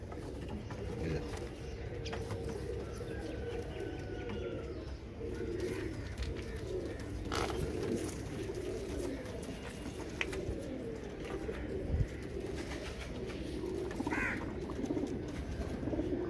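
Teddy pigeons with feathered feet coo softly and continuously over a steady background hum, with occasional flutters and clicks.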